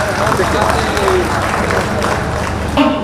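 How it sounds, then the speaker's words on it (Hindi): A large crowd gathered in Deoghar, Jharkhand, to welcome the Prime Minister breaks into loud, sustained applause, a dense wash of clapping with murmuring voices underneath. "माननीय प्रधानमंत्री जी आप सबकी तरफ से जोरदार तालियां"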